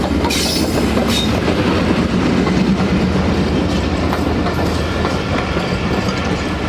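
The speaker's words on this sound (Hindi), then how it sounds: "ZCU P30 6352 के साथ पहुंच रही है ट्रेन लांडी जंक्शन पर।" The Allama Iqbal Express, led by a ZCU locomotive, rolls into Landhi Junction with loud continuous rumble and clickety-clack of wheels over rail joints, steady and close throughout.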